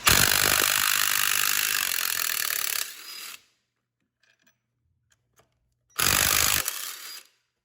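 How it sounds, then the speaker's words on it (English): An impact wrench with a 14mm socket spins bolts out on a Fiat 500 Abarth, a loud close whirring burst of about three seconds, a quiet gap, then a second shorter burst. "I would recommend using a heavy duty impact on this one."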